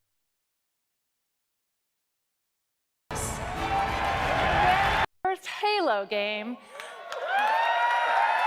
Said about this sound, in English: That's where I want to hear the applause.